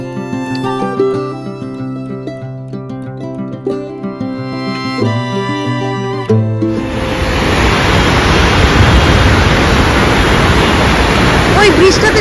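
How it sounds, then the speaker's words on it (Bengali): Water rushing at Dombur waterfall in Tripura, a broad steady roar that swells to fill the scene after a stretch of background music. "জলটা শুনলেই হবে।"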